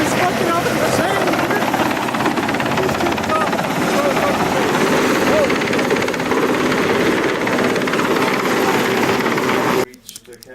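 A helicopter arriving at night near a cabin in Norway, its rotor thump loud and constant for about ten seconds before cutting off abruptly.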